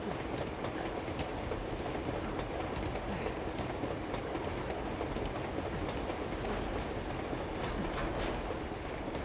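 Long train in Uncharted 2 rumbling along steadily, a dense continuous roar of wheels and railcars with faint rhythmic clatter, loud and unbroken throughout with no voices.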